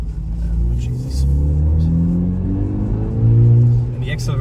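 A 2018 VW Polo GTI with a turbocharged engine revving and accelerating, its low rumbling note rising and falling in pitch across several surges, close and loud, with a voice speaking over it.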